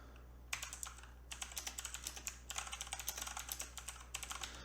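Fingers type on a computer keyboard while working in Microsoft Word, with rapid irregular clicks in two bursts separated by a short pause, close and clear over a low steady hum.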